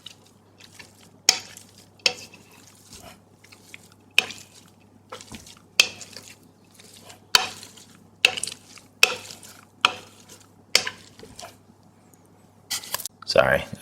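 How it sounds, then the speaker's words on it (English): Plastic masher pressing into perogy filling in a bowl, a steady series of sharp soft thumps roughly every second, close and fairly loud, with a faint hum underneath. "and just start mashing."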